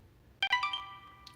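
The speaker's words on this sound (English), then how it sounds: "my phone just went off." A mobile phone ringtone chimes out in a short burst of bright electronic tones, a few quick notes that ring on briefly before fading, heard indoors at moderate volume with no talking over it.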